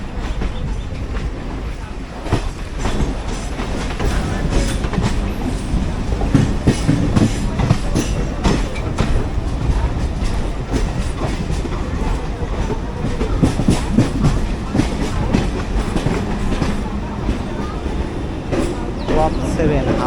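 A Bangaon local train runs steadily from inside the carriage, with a loud continuous rumble and rhythmic clickety-clack of the wheels on the rails. Voices are faintly present under the noise.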